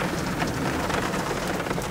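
Steady rain pattering at night during a thunderstorm, a dense even hiss of raindrops filling the whole stretch with no distinct thunderclap standing out.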